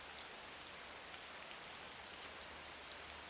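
Rain falls in a soft, even hiss of countless tiny drops on a surface, faint and steady throughout with no voices.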